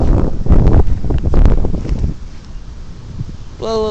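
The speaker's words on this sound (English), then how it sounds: "Look at the wind. There goes the wind. You can hear it." Gusty wind during a summer thunderstorm in Greenfield, Indiana buffets an outdoor microphone in loud rumbling bursts that ease off after a couple of seconds, with a brief tonal sound near the end.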